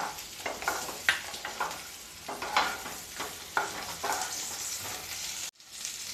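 Potatoes fry over a high flame in a pan with turmeric and salt for a mutton curry, giving a steady close sizzle broken by repeated scraping stirs, with no talk over it.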